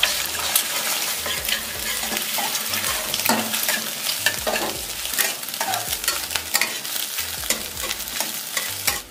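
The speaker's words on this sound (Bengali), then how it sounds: "একটা ডিম টুকরো টুকরো করে ভেজে নেব।" Egg pieces frying in mustard oil in a wok, a steady dense sizzle with repeated stirring scrapes throughout, close and moderately loud with no talk.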